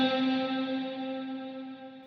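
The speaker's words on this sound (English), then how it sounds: "very rich sounding reverb" An electric guitar chord rings through a JHS 3 Series Hall Reverb pedal, holding a lush, steady wash of sustained tone that fades slowly with no attack, alone and clear.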